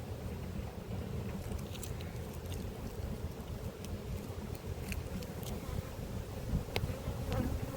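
Dense, steady droning hum of many honey bees at a hive, continuous and close, with faint wind rumble and occasional small clicks.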